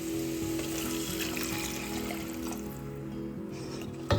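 Water is poured into a pan of fried vegetables for kulish, a Ukrainian Cossack dish, giving a steady close trickling and sizzling wash that ends with a small clatter.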